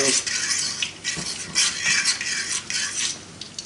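A fork scrapes and clinks against a frying pan in a quick irregular rhythm, stirring with soft sizzling underneath, close by.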